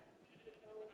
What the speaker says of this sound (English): I'm going to show you the sheep